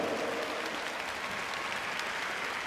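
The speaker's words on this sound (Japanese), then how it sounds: "大きな拍手に迎えられました。" An arena crowd applauds Japanese figure skater Yamato Tamura as he is introduced for his short program at the 2001 NHK Trophy, a dense wash of clapping.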